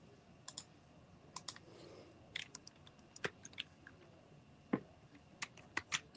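Scattered keystrokes tap on a computer keyboard, sharp isolated clicks arriving irregularly against a quiet background, some louder than others, with no talking.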